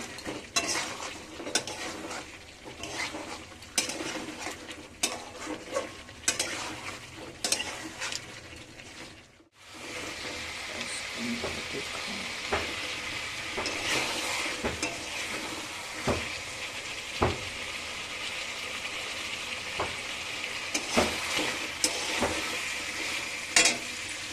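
Fried potatoes are stirred into chicken kosha in a pan: a spatula scrapes and clinks against metal in uneven strokes over a soft sizzle, with a brief drop to near silence partway through before the frying and stirring resume.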